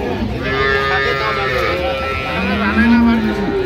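Dairy cows and calves at the Ambari cattle market in Dinajpur, with a drawn-out lowing call near the end rising over loud nearby talk and general market noise.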